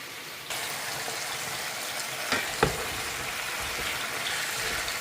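Vegetables sauté in a pan with a loud, continuous sizzle that starts abruptly, then runs steady with a couple of brief clinks of a spoon against the pan.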